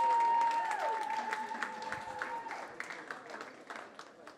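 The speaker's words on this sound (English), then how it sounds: "Give them a round of applause." Audience applause greeting a panel as it takes the stage, a scattered patter of clapping that fades gradually, with a sustained tone and some talk at the start.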